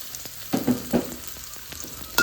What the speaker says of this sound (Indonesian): Dan kita gongseng lagi.